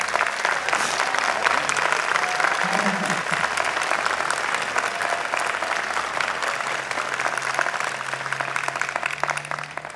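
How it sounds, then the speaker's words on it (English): A commencement audience gives a sustained round of applause for a 96-year-old father, dense even clapping throughout at a moderate distance, with a faint voice briefly audible beneath it. "you can acknowledge him and give him a great round of applause again"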